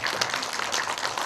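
A brief burst of applause from an audience at a Q&A session after a screening of a 2011 Korean animated film: dense, even clapping that fills the room.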